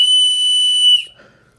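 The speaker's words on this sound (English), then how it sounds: "This is the 58 millimeter whistle knife by Victorinox." A Victorinox 58 mm whistle knife's built-in whistle gives one steady, shrill, close tone for about a second, then cuts off into quiet.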